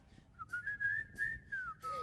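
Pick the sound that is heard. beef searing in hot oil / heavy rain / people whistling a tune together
people whistling a tune together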